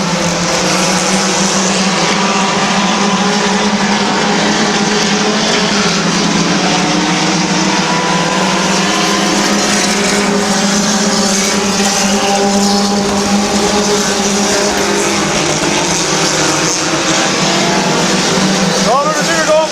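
Stock cars racing at Midvale Speedway during the 2005 fall classic, engines roaring in a loud, dense continuous drone with some tire squeal, while an announcer talks over the noise.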